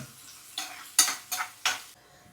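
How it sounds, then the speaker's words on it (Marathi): Onion sautéing in hot oil in a pan, heard as a steady soft sizzle broken by four sharp scraping stirs of a spoon against the pan over a couple of seconds, close and without talk. "तेल गरम झाल्यावरती कांदा टाकलाय परतून घ्यायचं आहे आपल्याला"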